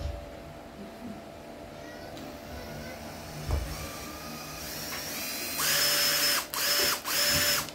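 A used Japanese cordless drill with variable speed and hammer mode sits quiet with faint clicks, then spins up into loud whirring bursts separated by short stops.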